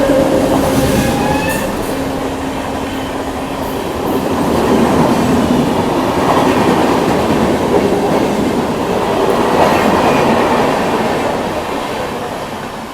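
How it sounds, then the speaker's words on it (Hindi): The IRCTC Tejas Express, running between Lucknow and New Delhi, rolls past at close range with a loud, continuous roar of wheels and rattling carriages, a faint horn early on and steady rumble throughout. "ये आ रही है 82501 IRCTC तेजस एक्सप्रेस, जो कि लखनऊ से नई दिल्ली के बीच चलती है"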